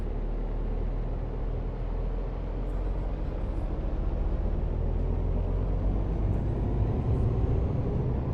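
Low, continuous rumble of a heavy 44-tonne truck engine in the video game Euro Truck Simulator 2, droning steadily, loud and close, with no voices.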